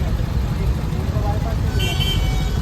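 Road traffic in Thane in the days before the Ganesh festival, a steady low rumble of engines close by with a brief higher tone near the end, under talk.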